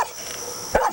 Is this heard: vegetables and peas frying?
no